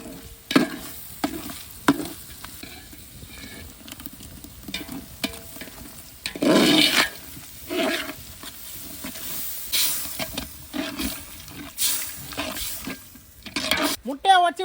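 Spatula stirring a masala mixed with beer and rum in a pan for egg curry, with scrapes and clacks in irregular bursts over a soft sizzle, close by, with no voices.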